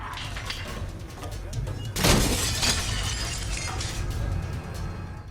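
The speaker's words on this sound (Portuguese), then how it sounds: "Ele ataca um armário de banheiro e bate a porta com tanta força que o vidro se estilhaça em pedaços" Glass in a bathroom cabinet door shatters in a film scene, a sudden loud crash about two seconds in followed by scattering debris over a murky background with faint cooing birds.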